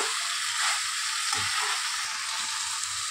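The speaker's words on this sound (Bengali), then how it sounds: "এর ভিতরে হালকা জল অ্যাড করে দেবো, দিয়ে ঢেকে দেবো চিকেনটা।" Water poured into a hot pan of chicken sets off a steady, bright sizzle and hiss that carries on evenly throughout, close and fairly loud.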